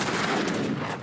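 Leather cannons firing in the Age of Empires III strategy game, a dense burst of overlapping gunfire-like blasts that fills a second without a break and has no talk over it.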